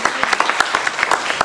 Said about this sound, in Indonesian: Yang setuju boleh beri tepuk tangan yang terbaik